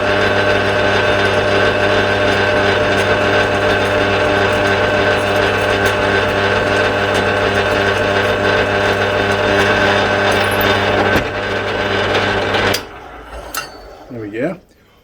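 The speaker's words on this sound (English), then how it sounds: "It's nice to have a pillar drill that's a little less rugged for the more refined jobs." A pillar drill running steadily while drilling holes in a metal part for a primary sheave tool prototype for a 450cc engine, a loud continuous motor whine that stops abruptly near the end.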